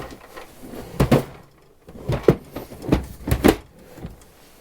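A large wooden drawer in a workbench base in a small workshop slides open and shut, giving several close, loud rumbling slides and thumps in quick succession with brief quiet gaps between them.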